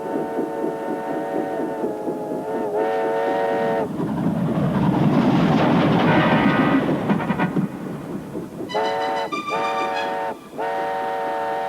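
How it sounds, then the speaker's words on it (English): A passing train in the Tugs harbour setting rumbles loudly through the middle, with two sets of clear horn blasts sounding before and after the heavy roar. "train, isn't it?"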